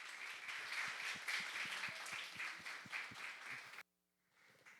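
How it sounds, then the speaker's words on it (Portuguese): Audience applause at a refereeing symposium, a dense burst of clapping with a few sharper individual claps standing out, sustained for nearly four seconds before cutting off abruptly into near silence. "Uma salva de palmas para a derrota da USP"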